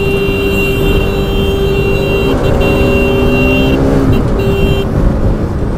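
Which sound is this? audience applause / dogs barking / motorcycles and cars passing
motorcycles and cars passing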